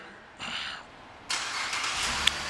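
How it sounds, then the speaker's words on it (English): A 2013 Cadillac SRX starting by remote start: a brief crank followed by the engine catching and settling into a steady idle, heard close by. "and the car starts right up"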